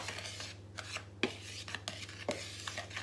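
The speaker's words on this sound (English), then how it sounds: "So you just need to mix them so the sugar and the flour are mixed together." Sugar and flour being stirred together in a mixing bowl for blueberry muffins, soft scraping and light taps of a utensil in an irregular rhythm, quiet and close over a low steady hum.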